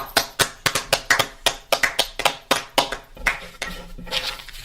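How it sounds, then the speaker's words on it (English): A small audience gives a short round of light applause at a Toastmasters meeting, a couple dozen sparse claps in a loose rhythm that thins out toward the end. "And a round of applause that was"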